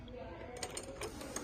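A nut is tightened inside a padel ball machine with an M8 socket during a turntable motor replacement, giving several faint ratcheting clicks over a low background hum.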